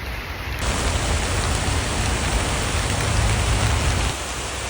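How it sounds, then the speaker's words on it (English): Heavy rain pours through thick forest on a walk across Singapore, a dense, steady hiss of drops on leaves that swells suddenly and holds loud before easing a little near the end. "It's raining quite heavily now"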